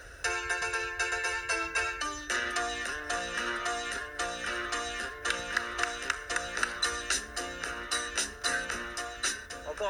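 A phone rings with no one picking up, its melodic electronic ringtone repeating steadily in short rhythmic pulses for about ten seconds, clear and alone with no talk.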